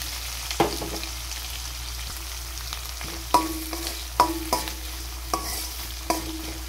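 Lentils, cumin, mustard seeds and onions fry in hot oil with a continuous close sizzle, broken by several sharp clacks as a spatula stirs and strikes the pan.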